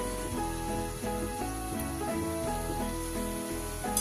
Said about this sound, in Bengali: তেলের মধ্যে ভেসে উঠছে হালকা আঁচে এপিট ওপিট করে অনেকটা সময় ধরে কিন্তু আমি ভেজে নেব